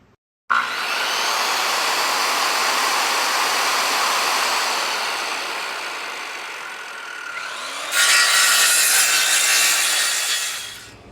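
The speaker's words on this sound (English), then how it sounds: "Have this little piece of pine cut out." A small, thin piece of pine being sawn: a loud sustained rasping cut that starts abruptly, holds steady for several seconds, then grows harsher and brighter before stopping.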